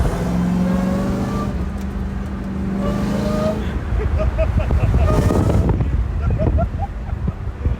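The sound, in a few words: car driving, heard from inside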